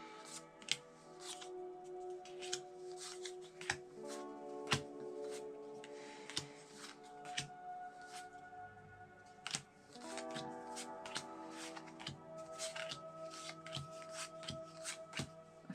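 Pokemon trading cards shuffled and sorted by hand make a steady run of close, crisp flicks and slaps, with rapid riffling passes broken by short pauses and no voices.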